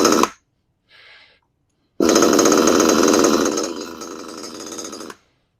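A Kyosho Nitro XXL Scorpion RC car's small nitro engine, run with the air filter off, sputters briefly, then catches and runs with a loud, buzzy, steady whine for several seconds before cutting off, close and alone.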